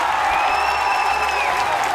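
Arena crowd at Cliff Keen cheering and applauding a men's gymnastics floor routine, a dense steady roar of clapping and voices with a couple of rising whistles or whoops above it, loud and continuous throughout.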